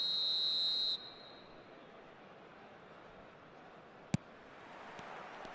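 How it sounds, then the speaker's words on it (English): Referee's whistle blowing for kick-off in an eFootball match, one long, shrill, steady blast lasting about a second, then fading into the low roar of a stadium crowd with a single sharp click later on. "There's the whistle, and here we go."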